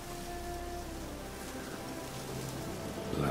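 Steady rain falls in the Witcher 3 video game, a soft continuous hiss of drops with faint low ambient tones underneath, quiet and unbroken.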